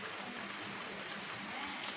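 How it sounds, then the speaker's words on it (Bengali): Rain falls steadily as an even, dense hiss of drops on surfaces, constant in level throughout with no voices. "দারুণ বৃষ্টি হইতেছে,"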